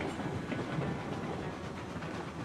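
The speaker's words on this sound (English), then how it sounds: "You can hear the engine chugging a little bit too much." A steam locomotive engine in the video game Railroads Online chugs steadily with a rhythmic clatter, fairly quiet and continuous with no voices.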